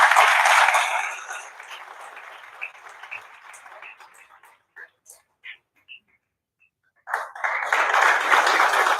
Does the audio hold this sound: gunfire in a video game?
no